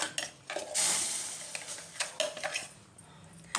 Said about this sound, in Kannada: ಈಗ ಇದನ್ನು ಸ್ವಲ್ಪ ಕೈ ಆಡೋಣ.